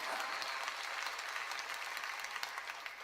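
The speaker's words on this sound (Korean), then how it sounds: "박수 치라니까." A church congregation claps together during a sermon, a steady dense wash of applause that holds evenly from start to finish with no voices standing out.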